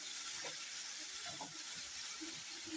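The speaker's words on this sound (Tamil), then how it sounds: "ரெண்டும் சேர்த்து நல்லா வதக்கிறணும்" Chopped onion and tomato sautéing in hot oil for a mulaka chutney: a steady, even sizzling hiss throughout, with faint clinks and stirring sounds underneath.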